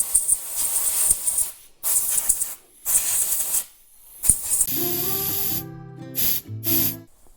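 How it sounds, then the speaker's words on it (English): Short bursts of compressed air blowing off a cleaned spark plug, several loud hissing blasts in a row with brief pauses, followed by a few tonal whistling or squealing hisses toward the end. "And then I would take, again, some compressed air."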